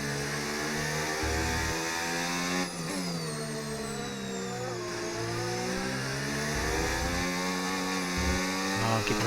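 An F1 car engine in the F1 25 video game screams at high revs, its pitch rising and falling continuously as it revs and eases off, loud and steady throughout with no talk.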